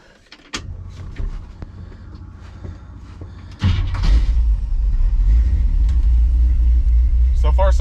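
A 1957 car fitted with FiTech fuel injection cranks and catches, its engine settling into a loud, steady low rumble that continues to the end, with a few clicks and knocks around the start.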